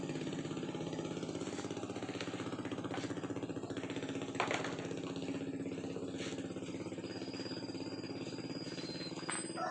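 An older Honda Supra motorcycle engine idles after carburetor tuning, a steady, faint, rapid mechanical putter with a brief louder blip midway.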